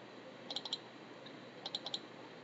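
Computer mouse double-clicking twice, two quick pairs of crisp, close clicks a second apart over a quiet steady hum.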